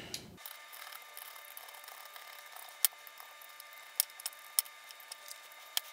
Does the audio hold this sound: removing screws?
yes